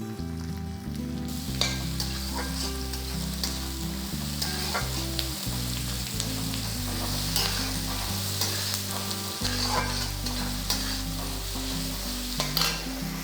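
Sliced big onions and a handful of shallots sizzle steadily in a pan for egg masala, with stirring and clinking utensils over background music.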